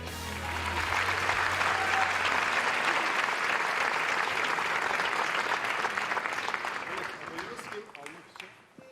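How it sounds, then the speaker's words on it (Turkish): Applause at the Altın Kelebek awards ceremony for the cast of the series Güneşin Kızları, a broad crowd clapping steadily for several seconds before tapering off toward the end. "Güneşin Kızları dizisi kadrosuna büyük bir alkış lütfen."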